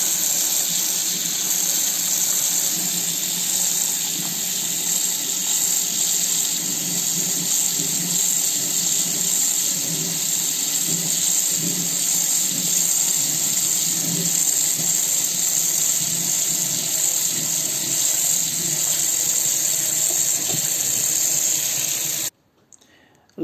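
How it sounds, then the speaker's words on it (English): Forsythia twigs are rinsed under running tap water, a steady even hiss and splash that continues unbroken for about twenty seconds before stopping abruptly. "let's wash it."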